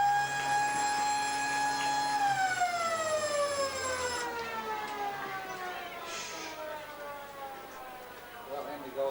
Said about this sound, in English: And another bounce down as the siren's about to sound.